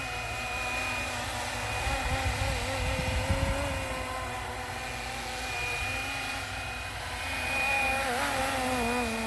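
Flywing Bell 206 V4 RC helicopter running on the ground or hovering nearby, a steady whining motor with a sustained rotor drone that swells and eases slightly, with a brief rougher burst partway through.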